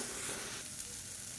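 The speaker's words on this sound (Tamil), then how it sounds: "வெங்காயம் நல்லா வதங்கிடுச்சு." Onions sautéing with salt in a pan, a soft, steady sizzle with light stirring texture, quiet and continuous for a little over a second.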